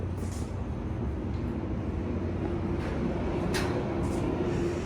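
At the Joliet Gateway Center station, a train arrives with a low, steady rumble, faint and distant, with occasional brief squeals of brakes or wheels on the rails.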